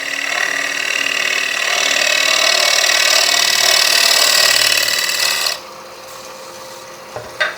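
A wooden oval box surface is scraped flat with a hand tool, a loud continuous rasping stroke for several seconds that stops abruptly, followed by a few faint knocks.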